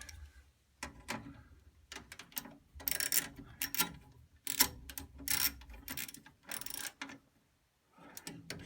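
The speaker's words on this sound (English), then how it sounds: "Let me fix my ratchet here." Ratchet tightening screws while mounting a replacement control board in a Bryant/Carrier furnace, quiet, close bursts of rapid clicking separated by short pauses.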